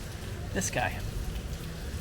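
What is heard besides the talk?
rain falling at night in Carcassonne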